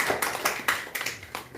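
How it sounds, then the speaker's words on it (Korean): A church congregation gives a short round of welcoming claps during a service, a handful of scattered, fairly quiet claps that sound sparse rather than a full ovation. "우리 환영의 박수 해드릴까요?"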